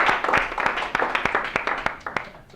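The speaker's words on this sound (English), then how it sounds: "Let's all give Jeremy a round of applause for allowing us to use his space today." Small audience at a business education session gives a round of applause, a moderate run of distinct handclaps that thins and fades out toward the end.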